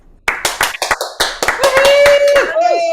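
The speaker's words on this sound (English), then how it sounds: "give a nice round of applause for our second group of performers" Applause for a second group of performers at a holiday concert, a burst of close, irregular hand claps building into steady clapping, with a few voices and a whistle-like tone mixed in near the end.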